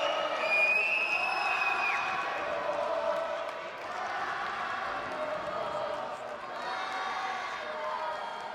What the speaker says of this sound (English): the crowd here supporting Pato, chanting his name after he gets the submission victory